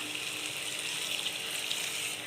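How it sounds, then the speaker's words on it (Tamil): A continuous rush of about 100 ml of water pouring steadily into a pot of kurma paste, bright and hissy, running without break for the whole stretch. "இது கூட ஒரு 100 ml தண்ணி ஊற்றிக்கலாம்."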